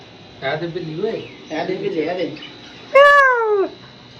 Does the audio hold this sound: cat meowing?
yes